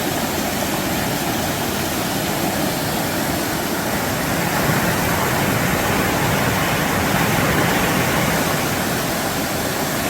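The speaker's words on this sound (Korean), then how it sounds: "계곡이 깊어지며 점점 물소리가 거세집니다" Loud, steady rush of water from a mountain valley stream deepening into a gorge, a dense continuous roar close by with no pauses and no voices.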